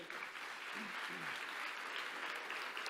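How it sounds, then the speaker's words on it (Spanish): A church congregation applauds steadily for about three seconds, dense and sustained clapping filling the room with a faint voice or two mixed in. "Dale un aplauso al Señor"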